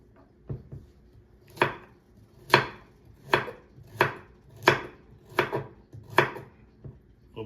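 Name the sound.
knife chopping food for venison pot roast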